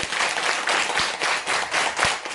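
An audience at a Nu Skin seminar claps hands together in a quick run of about ten sharp, roughly even claps, loud and near, with no voices over it.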